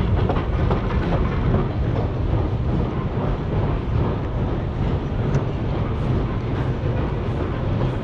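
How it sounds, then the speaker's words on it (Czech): A Prague metro train passes with a steady, loud rumble and rhythmic rail clatter that holds for several seconds, with no talking over it. "Hele, metro, vole."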